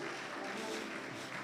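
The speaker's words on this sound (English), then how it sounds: "Keep clapping. It's a long journey. Keep clapping." An audience claps continuously at a youth conference in Kaduna State, a dense, steady wash of applause from a hall full of people, moderately loud throughout.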